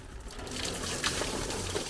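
Rainwater gushes and splashes steadily off a roof awning filled by heavy summer rain, a broad continuous watery rush at close range with no talk.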